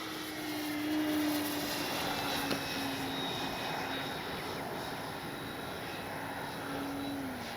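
A radio-controlled F4U Corsair model warbird flies past, giving a steady propeller engine drone with a slowly shifting pitch against outdoor wind noise, with no talk.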